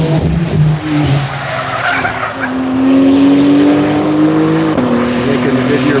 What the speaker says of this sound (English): taking a wide line there on the first corner in the Tesla